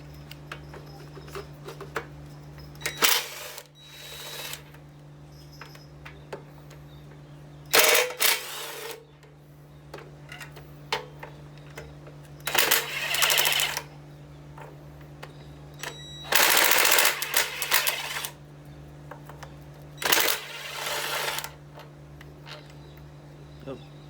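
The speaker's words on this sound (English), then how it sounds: "we'll start off with getting these bolts out of the way anyway. If I can get the impact in there." An impact wrench removes bolts from a 58-year-old vintage Victa mower in several short, loud rattling bursts spaced a few seconds apart, with a low steady hum and quiet gaps in between.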